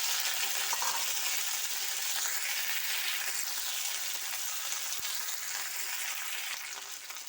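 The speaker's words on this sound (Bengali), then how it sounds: "তেল গরম হয়ে গেছে, এবার দিয়ে দেব নিম পাতা।" Neem leaves frying in hot mustard oil in a kadai, a steady, close hiss of sizzling that runs the whole time and eases slightly toward the end, with no talking.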